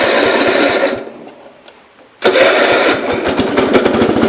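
After being choked, the engine of a 1970 Gravely 408 tractor chugs, stalls into near silence, then catches abruptly and runs with a rapid, uneven putter up close.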